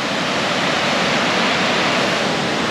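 Water rushing at lock 14 on the Kentucky River, a loud, unbroken broadband roar with no pauses or voices.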